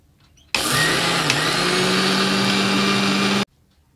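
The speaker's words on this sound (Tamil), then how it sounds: "அரிசியை மிக்சி ஜாரில் சேர்த்துருக்கோம்" A mixer grinder pulverises rice into flour in its jar, a loud steady whirring roar that starts abruptly, holds at an even level for about three seconds, and then cuts off.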